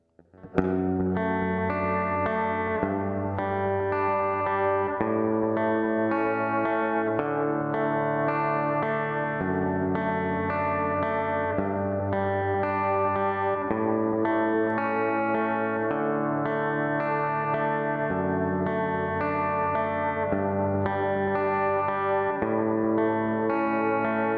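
An effects-laden lead electric guitar plays the verse-two part of a song, a steady run of sustained, chorus-washed distorted notes with echo, loud and continuous with no voices.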